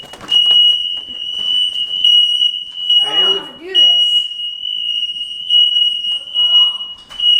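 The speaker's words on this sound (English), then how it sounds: "Our house smoke alarms are going off." A house smoke alarm shrills with a steady high-pitched tone throughout, set off by smoke from a zero-turn lawnmower, while people talk briefly over it.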